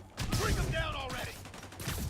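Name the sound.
gunfire from enemies in the Spider-Man video game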